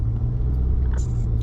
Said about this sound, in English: I am just driving to College Park, Maryland